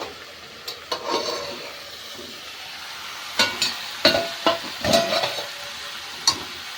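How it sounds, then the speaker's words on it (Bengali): Bottle gourd greens being turned in a pan, with a soft frying sizzle and scattered sharp scrapes and clinks of a spatula against the metal, close and irregular. "শাকটাকে একটু ভালো করে নেড়ে চেড়ে দেব"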